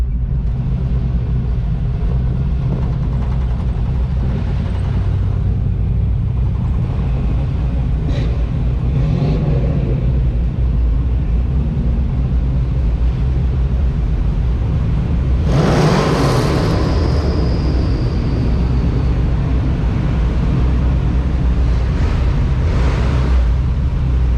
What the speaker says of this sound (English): Doesn't make as much exhaust noise as it just does fan and engine noise.